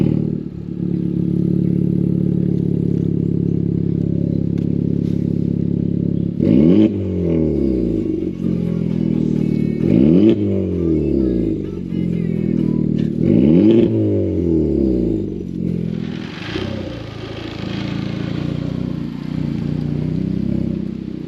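A Honda Civic Type R FK8R engine idling loud and close, then three sharp revs in a row with dropping exhaust tones between them, followed by a steady throaty run.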